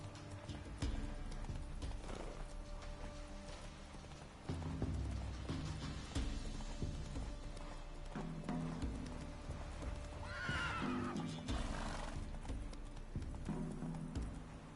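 Roach, a horse in the video game The Witcher 3, gallops with steady clip-clopping hooves under a game score, letting out a loud whinny partway through.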